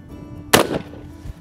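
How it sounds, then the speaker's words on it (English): A Cimarron Model 1878 shotgun fires one smokeless round at steel plates: a single sharp, loud report with a brief tail, then a faint thud a moment later. "Let's put a couple smokeless rounds on these steel plates here."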